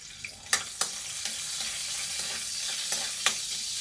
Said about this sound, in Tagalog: Pag mainit na po, tambog na natin ang bawang.